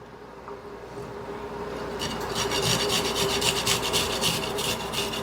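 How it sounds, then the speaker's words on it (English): Garlic cloves are rubbed quickly back and forth across a grater, a close, steady scraping rasp that grows louder and more rhythmic partway through, with no voices. "And now I'm also going to grate 2 garlic cloves."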